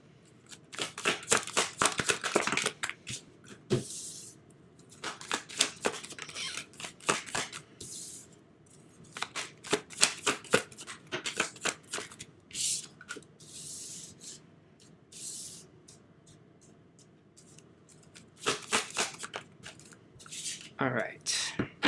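Tarot cards shuffled by hand in repeated bursts of crisp riffling and flicking, close and fairly quiet, with pauses between rounds and a soft voice talking at times.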